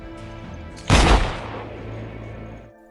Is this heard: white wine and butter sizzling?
no